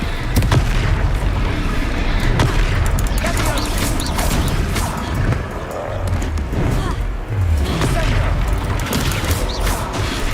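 Confringo fire spell blasts in Hogwarts Legacy combat, with dense, booming explosive bursts and mechanical clatter repeating throughout amid a busy game soundscape.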